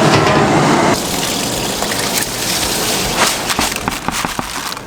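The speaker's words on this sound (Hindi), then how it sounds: "ये पानी शामिल कर दिया मैंने इसके अंदर 13 किलो" A strong stream of water, about 13 kilograms, pours into a large cooking pot for dhaba-style commercial daal chawal. It makes a loud, continuous rushing gush that eases slightly after the first second and keeps flowing to the end.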